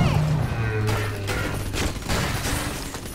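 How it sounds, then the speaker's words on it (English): Gunfire from turrets and enemies in the video game Bioshock 2, a dense, continuous burst of rapid shots and mechanical clatter lasting the whole stretch, with a low droning tone underneath. "So who's shooting me?"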